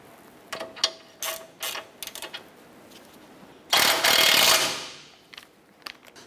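A ratchet snugging down the outer tie rod nut on a 2008-2012 Honda Accord in a repair shop: short bursts of clicking ratchet strokes, then a louder continuous whirring burst that fades, followed by a few more clicks.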